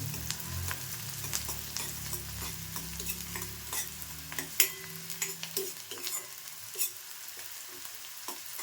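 Chopped onion frying in a pan for a traditional Konkan amti, with a steady sizzle and occasional stirring scrapes and clinks close by, and no talk.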